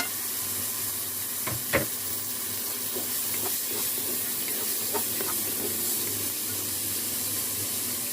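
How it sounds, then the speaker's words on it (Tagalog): Garlic, onion and tomato sizzle steadily in a hot pan, a continuous frying hiss with a few sharp clinks of a utensil against the pan and no talking. "Ilagay ko po ang bawang, sibuyas, kamatis."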